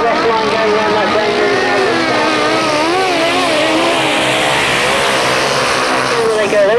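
Grasstrack sidecar motorcycle outfits at a 1991 race roar past very close, a loud, continuous engine howl with pitch rising and falling as they power through a bend, probably with commentary underneath.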